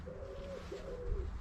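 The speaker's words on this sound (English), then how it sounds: "What's going on with the actual pigeons here today?" Pigeons cooing close by, two soft low rolling coos in quick succession over faint background noise, heard near a Fiesta Zetec S being worked on.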